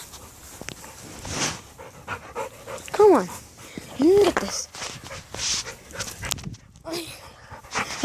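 Dogs pant and whimper close by while playing, with quick rhythmic breaths, a couple of short whines, and footsteps, as a person talks over them.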